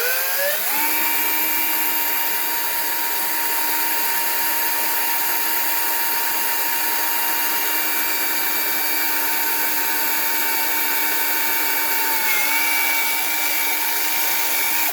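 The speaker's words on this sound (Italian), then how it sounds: "Ad esempio, lo posso forare." Power drill boring a hole in a handmade plastic piece, a steady high motor whine running continuously at close range, spinning up at the start and shifting pitch briefly near the end.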